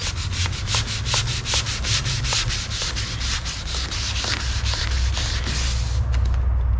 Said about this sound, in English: I'm definitely wet sanding on this pass.